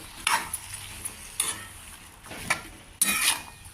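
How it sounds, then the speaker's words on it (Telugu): Green chilli pieces and turmeric stirred in a cooking pan with a spoon, four bursts of scraping and sizzle spaced about a second apart, close and fairly loud, no talking. "పచ్చిమిరపకాయ ముక్కలు, పసుపు బాగా మిక్స్ చేసుకుని పచ్చివాసన పోయేదాకా ఇవన్నీ మగ్గించుకోవాలి"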